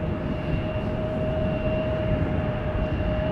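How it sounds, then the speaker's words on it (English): An ITA Airways Airbus A321neo at Amsterdam Schiphol Airport gives off a steady, continuous jet engine roar with a sustained tonal whine, moderately loud and unbroken, with no voices. "A321Neo from ITA is coming, the second ITA."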